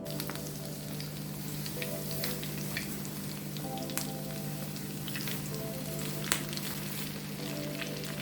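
Steady, crackling sizzle of chicken drumsticks frying in a pot of hot oil, continuous throughout with occasional sharper pops over a low constant hum.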